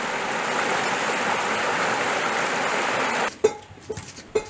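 Running stream water rushing steadily and fairly close where women from a tribal community in Odisha wash freshly collected roots and tubers, then cutting off near the end into a few brief knocks and splashes.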